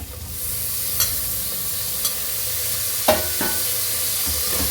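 Tomato and cashews sautéing in a pan, a continuous sizzle broken by a few sharp utensil taps and scrapes, close and clear.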